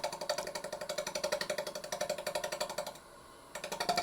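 Wood lathe shear scrape across the rim of a spinning ash bowl: a rapid, pulsing rasp at a steady rhythm, close and loud, with a short pause before the cut resumes.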